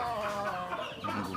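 Chickens and chicks that have recovered from fowl cholera cluck steadily at close range, with overlapping soft calls and peeps in a continuous chorus and no speech.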